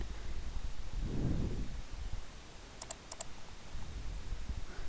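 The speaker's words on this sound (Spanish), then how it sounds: "Le damos 2 clics y tarda un poquito en añadirlo, pero lo añade" Two quick computer mouse double-clicks, soft and close, sound in succession over a low background hum and rustle.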